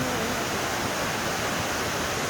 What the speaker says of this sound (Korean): 이게 동래 폭포